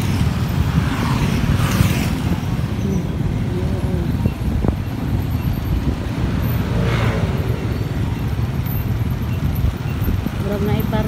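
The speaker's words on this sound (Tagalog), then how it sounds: "Traffic." Steady road traffic rumbles along a busy street, with passing vehicles swelling and fading at middle distance while people talk over the constant drone.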